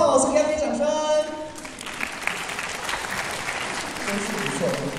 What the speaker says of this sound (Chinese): 先给他们掌声